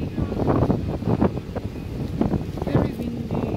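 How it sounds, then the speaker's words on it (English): Strong gusty wind buffets the microphone in low rumbling bursts at a Malay night market as rain begins, while people talk nearby. "Yeah, it's very windy."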